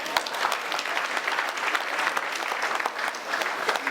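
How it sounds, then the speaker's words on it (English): Audience applause at a human rights defenders awards ceremony, a steady, moderately loud patter of many hands clapping with crisp individual claps standing out, continuing evenly without voices. "I think they need really another good applause."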